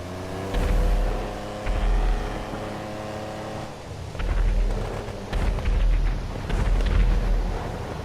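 Classic Mercedes-style Benefactor Stirling GT in GTA Online, its engine rumbling loudly and steadily with revving surges and deep low-end roar, some harmonic whine as it accelerates, no talking.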